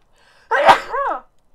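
One sharp sneeze, close and loud, with a quick sputtering burst followed by a short voiced trailing tail. The surrounding room is quiet.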